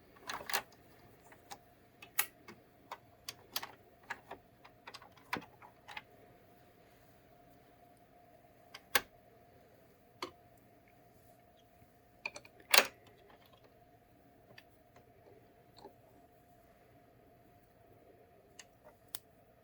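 An Addi circular knitting machine cranked slowly in reverse, giving sparse, irregular mechanical ticks and clicks at close range with quiet gaps between them and a faint steady hum underneath; no one speaks.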